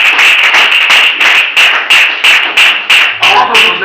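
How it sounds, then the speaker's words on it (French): A church congregation claps for Jesus in a loud, steady, rhythmic beat, the claps landing roughly three per second and filling the room close and strong. "Let's clap for Jesus"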